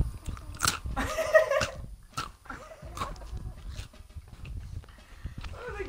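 Someone bites into and chews food during a Rainbow Six Siege session, several crisp crunches and wet chewing bursts in an irregular run, close to the microphone with no clear talk.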